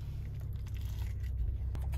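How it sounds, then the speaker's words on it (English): A close bite into a crunchy burger with a heavily breaded onion ring, pineapple and barbecue sauce gives brief crackling crunches over a low steady rumble. "Take a bite out of the other side so we can get everything in here."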